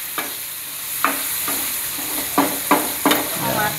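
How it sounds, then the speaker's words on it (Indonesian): Sambal with jengkol and anchovies fries in a pan with a constant sizzle, while a utensil stirs and scrapes in several sharp strokes, close and clear, no talk. "Ini namanya masak sambal jengkol teri"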